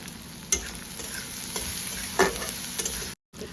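Spices with salt and turmeric frying and being stirred in a pan for masala poha, a steady close sizzle with two sharper scraping stirs standing out before a brief cut to silence.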